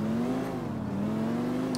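A car engine in the GTA IV video game hums steadily with a slowly rising and falling tone, holding close and even for under two seconds with no one talking.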